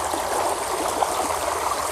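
Steady rushing water streams continuously, a broad even wash of flow with small gurgles, close by and without voices.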